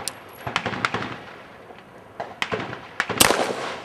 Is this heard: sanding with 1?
no